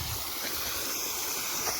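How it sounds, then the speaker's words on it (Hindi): Irrigation water released to flow through a farm with guava trees and date palms in Saudi Arabia at evening, a steady soft broadband rush with low rumble, continuous and fairly close, no talking. "ये देखिए हमने इधर पानी छोड़ा हुआ है"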